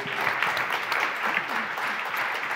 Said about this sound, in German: kann man nochmal klatschen